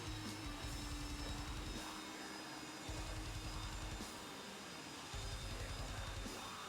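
A SAAB AJS 37 Viggen jet taxis in the DCS flight simulator, its engine giving a constant whine and hum while a low pulsing rumble swells and fades in repeating waves.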